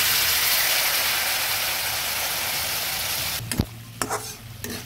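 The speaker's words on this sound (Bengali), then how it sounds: "এবার জল দিয়ে ভালো করে নেড়ে দিচ্ছি।" Kashmiri red chilli powder and a splash of water being stirred in a pan while making Tengra fish curry with brinjal and potato. A strong close sizzle fills the first part, then it gives way to several sharp scrapes and knocks of the spoon.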